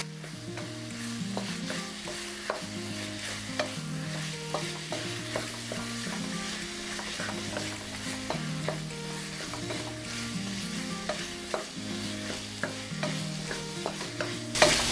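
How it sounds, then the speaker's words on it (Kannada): Boiled cauliflower florets, cooked in salt and turmeric, stirred and fried in a pan of spiced masala, giving a steady soft sizzle with regular scraping strokes throughout, close and moderately loud, with no talking. "ಹೂಕೋಸ್ ಹಾಕ್ಕೊಂಡು ಚೆನ್ನಾಗಿ ಫ್ರೈ ಮಾಡ್ಕೋಬೇಕು"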